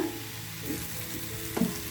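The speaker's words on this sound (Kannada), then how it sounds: "ಒಂದು ಸ್ಪೂನ್ ಎಣ್ಣೆ ಹಾಕಿ ಫ್ರೈ ಮಾಡಿದರೂ ಕೂಡ ಟೇಸ್ಟ್ ತುಂಬಾ ಚೆನ್ನಾಗಿರುತ್ತೆ ನೋಡಿ ಸಾಫ್ಟ್ ಆಗೋ ತನಕ ಫ್ರೈ ಮಾಡ್ಕೊಂಡು ಬರೋಣ" Chopped tomatoes fry in a spoonful of oil in a pan, giving a soft, continuous sizzle with a light stirring scrape near the end.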